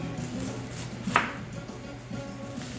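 A knife slices through cabbage in one crisp cut, followed by a soft crunch near the middle. A steady low kitchen hum runs underneath.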